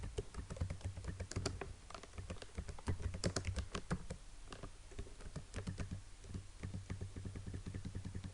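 Keys clatter on a computer keyboard as text is typed in Adobe Illustrator, a steady run of close, crisp clicks and taps with a low hum underneath and no talking.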